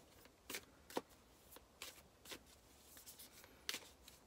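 Animal oracle cards being shuffled by hand in a quiet room, a series of soft, papery riffles and slaps at irregular intervals, close and fairly faint, with no talking.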